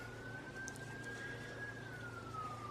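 Police sirens wail steadily at a distance, one drawn-out tone gliding slowly up and then down over a constant low background rumble.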